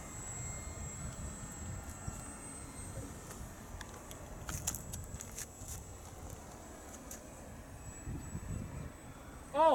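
An FMS 1700mm PA18 radio-controlled model airplane comes in to land with flaps down, its engine a faint steady drone against wind and outdoor background noise, with a brief louder sound at the end.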